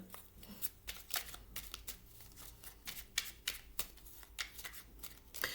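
Numerology cards shuffle and slap in quick irregular bursts, a crisp papery riffling repeated over and over at close range, quiet and with no talk.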